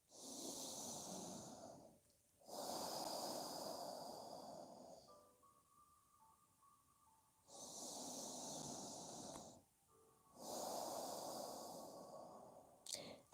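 Slow, deep breaths drawn in and out through the nose during a yoga session, four long audible breaths separated by quiet pauses, close and fairly clear.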